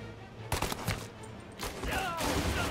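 Gunfire in the video game Mafia: Definitive Edition, several bursts of shots cracking out over about three seconds, moderately loud with a dense busy background of game noise.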